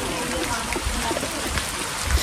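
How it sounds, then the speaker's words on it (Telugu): Steady rain falls outdoors, a continuous broadband patter and wash at moderate level with no clear breaks, and a faint low thump near the end. "ఇట్లయితే ఒక్కోసారి వర్షం వస్తున్నది పోతున్నది."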